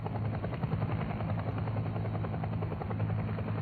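A UH-1 military helicopter's rotor chops steadily in a loud, continuous throbbing drone, close and unbroken throughout.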